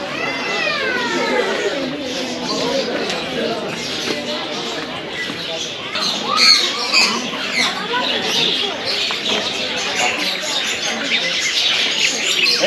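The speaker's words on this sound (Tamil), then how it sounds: "இது ஃபுல்லாக லவ் பேர்ட்ஸ். காக்டைல் சரியா?" Lovebirds and cockatiels squawk and chirp continuously in a busy aviary, a dense overlapping chorus of shrill calls, with people talking faintly in the background.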